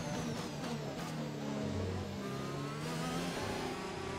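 Simulated Ferrari Formula 1 engine in the F1 2021 racing game, a steady loud mid-pitched whine with shifting harmonic tones that rise and fall continuously, droning without pause and no talk over it.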